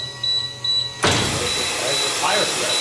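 Corghi Artiglio Master 24 tire changer lowering its tire sled, a faint electric hum that gives way to a louder steady motor whir after a sudden start.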